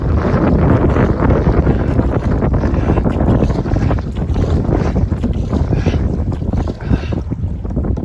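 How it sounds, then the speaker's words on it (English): Strong headwind roars against the microphone while canoeing on the Catawba River, a loud, continuous, buffeting rush of wind noise with gusty swells and faint water sounds underneath. "damn headwind's fighting me real bad here right now"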